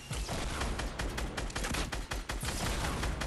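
Rapid, dense gunfire in the Fortnite Battle Royale video game, a loud continuous barrage of shots with no pauses.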